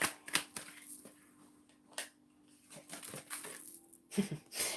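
Tarot cards shuffled and drawn by hand, a run of soft papery riffles, slaps and flicks close up, uneven and bursty, with a faint steady hum underneath.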